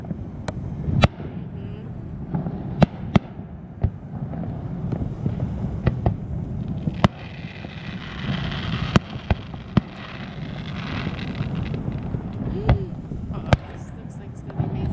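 Fourth of July fireworks off Hawaii's Big Island, heard from a boat anchored on the water: sharp booms and pops strike at irregular intervals over a steady rumble of crowd and boat noise, with voices talking throughout.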